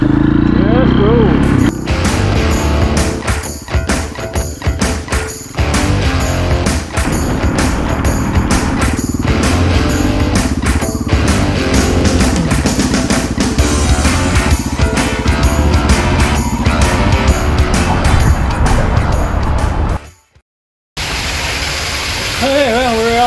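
A KTM motorcycle engine revs loud and close throughout as the bike rides off on a summer trip, a continuous rough roar with gear changes, before it cuts out abruptly near the end.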